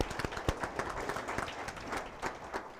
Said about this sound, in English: A round of applause for Engineer Obam